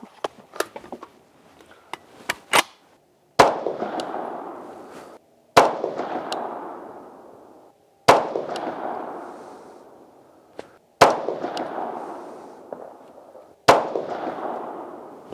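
A Crusader Arms Templar rifle firing Hornady 55 grain Varmint Express rounds outdoors: five or six loud, sharp shots spaced a couple of seconds apart, each trailing a long fading echo, after a few lighter clicks and handling noises.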